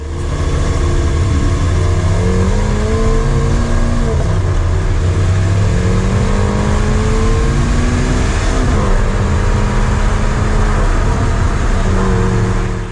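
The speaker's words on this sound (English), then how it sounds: "as soon as you accelerate, the valve opens and all of a sudden you hear that glorious V12 noise" A Lamborghini Aventador S Roadster V12 roars loudly as its exhaust valves open, revs climbing and falling in several sweeping pulls, heard close and alone without voices.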